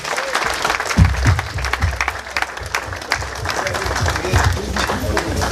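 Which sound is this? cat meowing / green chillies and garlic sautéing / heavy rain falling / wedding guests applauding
wedding guests applauding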